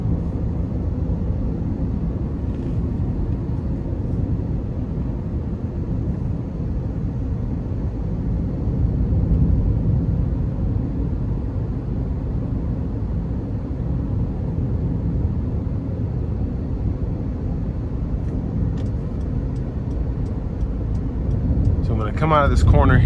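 Steady low road rumble and engine drone inside the cabin of a 2013 Honda CR-V EX-L with a 2.4-liter four-cylinder, heard while driving, quiet and continuous with a slight swell near the end.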